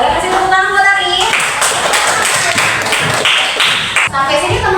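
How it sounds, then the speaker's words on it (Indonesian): A classroom group claps hands together in a steady burst of applause for a pupil, loud and close, with some voices mixed in. "Boleh kasih tepuk tangan buat Arif?"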